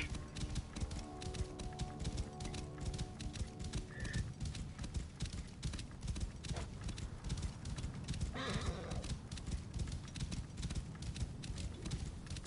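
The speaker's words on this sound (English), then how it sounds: "Horses, like, fucking crazy." Horses in Assassin's Creed Origins gallop with a fast, steady clip-clop of hooves throughout, joined by a brief whinny midway, while a voice speaks faintly underneath.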